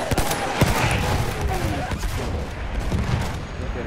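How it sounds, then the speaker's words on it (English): Rapid bursts of gunfire in Battlefield 1 crack loudly and close, with overlapping shots and booms through the first seconds, then scattered shots as the din thins. "I was shooting at someone"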